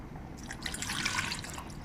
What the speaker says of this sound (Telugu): నీళ్లు పోసి నానబెట్టుకుందాం.